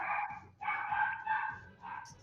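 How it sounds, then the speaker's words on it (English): A dog barks in several loud, close, rapid yaps in a short burst, with a brief faint sound at the end. "Dog."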